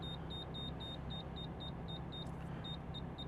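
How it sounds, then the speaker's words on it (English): A Defi oil pressure gauge in a Toyota Mark II JZX110 beeping in a regular, evenly spaced series of short, faint high tones over the low hum of the car interior. "Oil pressure gauge is beeping."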